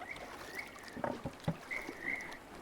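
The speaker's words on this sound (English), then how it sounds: "the character footsteps for the timber." Video game footsteps in Unreal Engine thud on timber boards, a few irregular steps with a hollow knock, set against a faint steady background hum.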